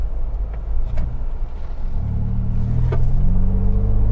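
A 2021 Ford Bronco Sasquatch First Edition on a test drive gives a deep, loud engine rumble that builds as it accelerates, with road noise and a few sharp clunks.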